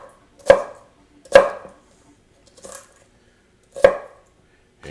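A sharp Granitstone NutriBlades knife slices sideways through an onion on a board: four crisp, separate cuts, each a quick thud with a brief crunch, spaced by quiet pauses and heard up close with no voices.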